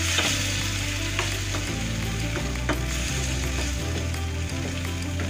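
Fermented soybean paste (tauco) with green chilies is stirred in a frying pan, making a steady sizzle with repeated close scraping and clinking strokes of the spatula.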